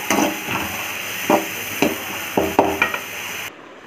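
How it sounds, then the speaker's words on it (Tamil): Onions and curry leaves sautéing in a pan for fish kulambu make a soft steady sizzle, broken by several distinct scraping and tapping stirs before the sound stops abruptly. "வெங்காயம் போட்டு வதக்கிட்டு போயிருக்கு"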